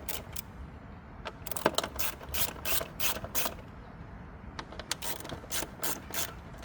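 A socket ratchet undoes the 8mm screws on a 2016–2021 Honda Civic airbox, heard as close, crisp bursts of rapid clicking that repeat in short runs with brief pauses between them.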